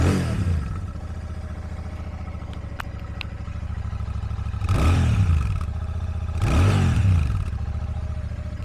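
Royal Enfield Shotgun 650 twin engine running on its stock factory exhaust, a loud close steady rumble with two rising revs swelling and falling back to idle.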